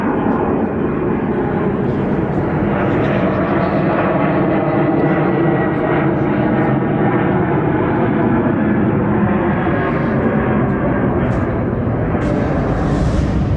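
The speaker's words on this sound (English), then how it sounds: "Damn airplanes." A low, steady roar of an airplane passing overhead fills the whole stretch, broad and rumbling, with faint voices underneath.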